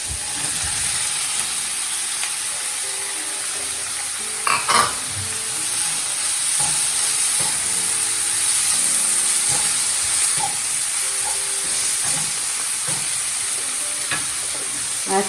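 Peas sizzle and hiss steadily in a hot pan while a spoon stirs them with occasional scraping clatters, a continuous frying sound with no voices.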